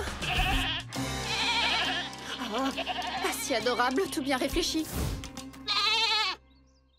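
Goats bleat loudly and repeatedly, wavering cries close by, with a person speaking over them and a final long bleat near the end.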